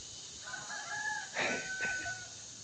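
A rooster crows once in a long, rising cock-a-doodle-doo, fairly close and clear over a steady background hiss, with a second fainter call following near the end.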